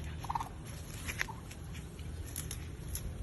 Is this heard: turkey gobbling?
yes